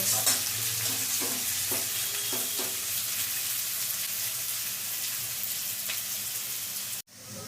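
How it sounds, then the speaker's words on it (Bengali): Onions fry in a pan until browned, a steady close sizzle with a few light stirring scrapes early on, ending in an abrupt cut to near silence. "পেঁয়াজটা লাল করে ভেজে নেব"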